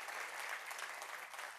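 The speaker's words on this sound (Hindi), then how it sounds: "तालियों के साथ स्वागत करें" Steady applause from a church audience, a dense wash of many hands clapping throughout.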